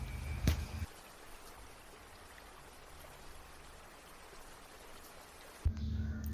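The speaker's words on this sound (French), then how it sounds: "c'est le son de la pluie." Steady rain falling as a soft, even hiss of drops, a natural outdoor nature sound heard alone at moderate level, with a brief louder knock near the start and end.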